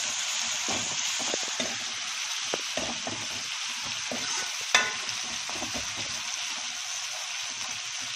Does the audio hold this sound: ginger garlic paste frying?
yes